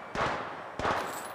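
Two separate gunshots from Apex Legends Mobile, a mobile battle royale shooter, each a sharp close report followed by a short decaying tail, spaced under a second apart with no talking.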